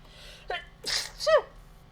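A single close sneeze, a sharp breathy intake followed by a loud explosive burst, over a quiet low hum in a room.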